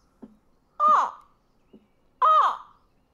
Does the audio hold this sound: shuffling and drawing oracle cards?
no